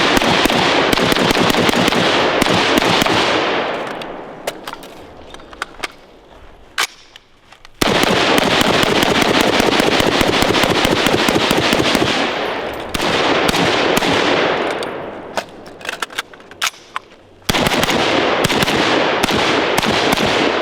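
A battle rifle fires in rapid bursts of loud, close, sharp reports, with a few brief pauses between strings of shots and no talk.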